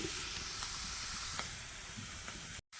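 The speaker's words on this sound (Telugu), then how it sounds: "అల్లం ముక్కలు మంచిగా వేగేసినాయి" A steady, soft hiss of ginger pieces frying in hot oil, even and continuous, with a few faint ticks and a brief dropout near the end.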